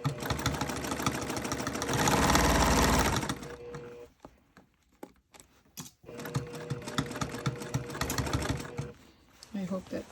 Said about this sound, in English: One benefit you have with the treadle machine is there's no motor, so it's going to be nice and quiet and peaceful.